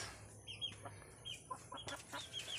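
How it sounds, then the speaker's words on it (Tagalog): Quiet, low clucking from chickens in a backyard coop nearby, a few soft scattered clucks over faint background noise. "Ito yung bago kong manok"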